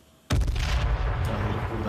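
A bomb explosion in H1Z1: near silence broken by a sudden loud blast that holds as a heavy rumbling roar with crackling debris for over a second.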